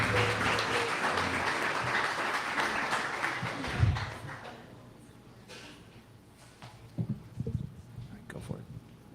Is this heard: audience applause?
yes